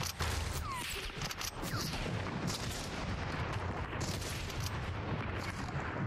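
Gunfire from a Fortnite match fills the mix with dense, loud bursts and booming shots over a constant roar of game noise, sniper rifle fire among them.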